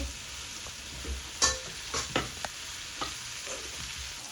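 Ingredients for egg kothu sauté in a pan with a soft constant sizzle, broken by several clattering stirs and scrapes of a utensil, heard close up with no talking.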